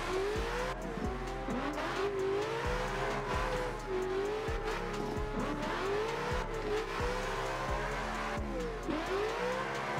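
A car drifts in Assetto Corsa, engine revving up and down as tires squeal in long wavering sweeps, with repeated gear-shift thumps and steady loud skidding throughout.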